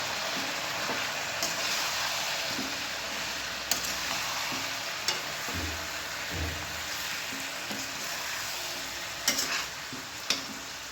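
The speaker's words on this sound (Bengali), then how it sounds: "এবার আমি মাংসটা ভালো করে নেড়ে চেড়ে একটুখানি ঢাকা দিয়ে দেবো।" A spoon stirs country chicken meat with chilli powder in a frying pan, the meat sizzling steadily with intermittent scraping strokes close by, no talking.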